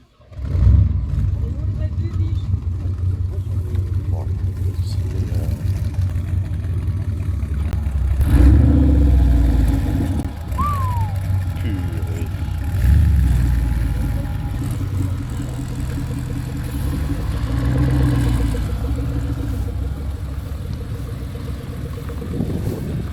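A convertible with a modified exhaust line revs and rumbles at a prestige convertible rally at a château, the engine close and loud under steady French conversation, swelling in a few bursts before settling back.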